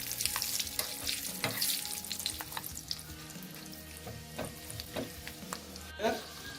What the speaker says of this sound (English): You have to put the peanuts. Stir a bit. Make sure that the curd chilies are nicely fried.